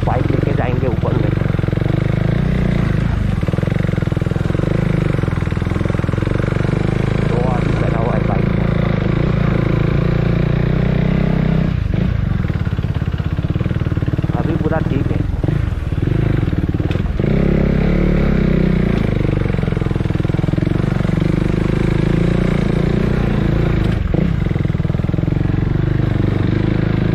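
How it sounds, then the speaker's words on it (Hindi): A motorcycle ridden uphill toward a hilltop viewpoint in Guwahati, its steady engine drone running throughout with some clatter and revving swells, close and loud, with people talking over it. "तो आज हम लोग बाइक लेके जाएंगे ऊपर में।"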